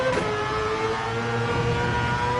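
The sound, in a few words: car engine revving in Gran Turismo 7 video game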